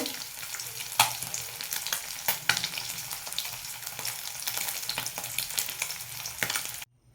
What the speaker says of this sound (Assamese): মাছ ভাজি চলি আছে